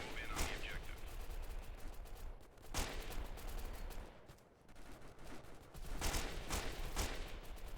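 An M249 machine gun fires in Delta Force Xtreme, a 2005 PC shooter, in a steady crackling stream of rapid shots with sharper bursts standing out, fairly loud throughout with a brief lull in the middle.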